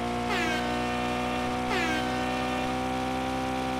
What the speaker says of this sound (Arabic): فيها زمور عادي مدري شلون.